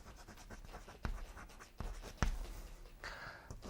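A teacher writes on a classroom board with irregular scratchy strokes and a few sharp taps, close and fairly quiet, with no talking.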